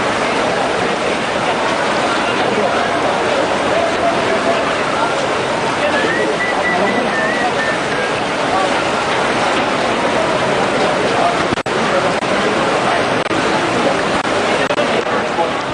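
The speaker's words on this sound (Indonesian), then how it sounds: "Banjir dengan ketinggian lebih dari 1 meter disertai arus yang deras sangat membahayakan warga." Floodwater over a metre deep rushing through the city of Pangkal Pinang, a dense, constant roar of fast water, loud and continuous throughout, with a voice speaking over it.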